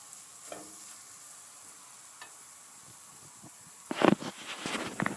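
Food cooks in a pot with faint, quiet sizzling and occasional soft stirring scrapes, building to louder clattering stirs near the end.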